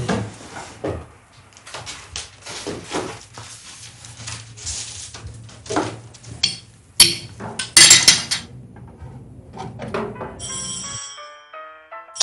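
A telephone rings repeatedly in a French home during an evening scene, bright trilling bursts over faint background sounds, before a final clearer ring and a short melodic tone.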